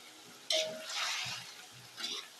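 Stirring a mushroom and vegetable dish in coconut milk in a pan, a wet scraping and sizzling swirl that starts abruptly, runs steadily, then rises again briefly near the end, close and moderately loud with no talking.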